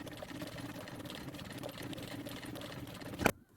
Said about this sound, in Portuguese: eu vou ter que dar uma costurinha aqui para ele ficar no lugarzinho